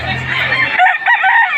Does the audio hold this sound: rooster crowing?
yes